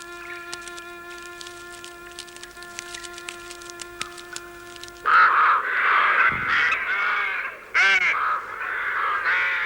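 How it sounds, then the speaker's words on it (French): Crows caw loudly and harshly as they take flight, their calls and wing flutter erupting suddenly halfway through after a quieter stretch of steady tonal background sound, with a second burst of cawing near the end. "Nous avons fait s'envoler les corbeaux."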